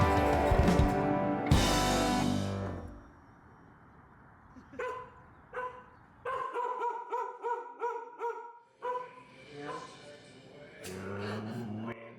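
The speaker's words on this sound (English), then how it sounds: "Taking care of Hans and Grace's dog for a week." A dog barking repeatedly at close range, sharp loud barks in irregular bursts with some whiny yips, following a stretch of other loud noise at the start.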